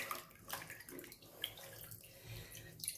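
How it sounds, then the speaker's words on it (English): Water rinses over embroidery stitches held in a hoop, giving quiet, close trickling and small splashes that rise and fall unevenly over a few seconds. "So we'll give it a little rinse."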